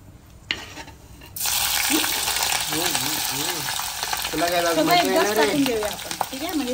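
Brinjal, beans, onion and green chilli hit a pan of hot oil with curry leaves and mustard seeds, bursting into a loud, steady sizzle that continues close by with occasional stirring and a few squeaky tonal sounds.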